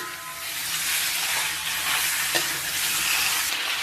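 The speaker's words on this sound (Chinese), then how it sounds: "接下来咱们开小火啊，咱们把五花啊给它简单煸炒一下" Pork belly stir-fries over low heat in a hot oiled wok, giving a steady, close sizzle and hiss with a faint scrape of stirring, and no voices.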